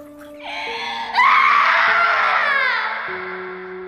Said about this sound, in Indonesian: terdengar Desi menjerit